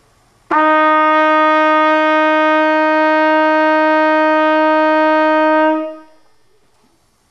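A trumpet holds a single sustained F fingered with the first valve, a steady bright tone with rich overtones lasting about five seconds before fading, played alone.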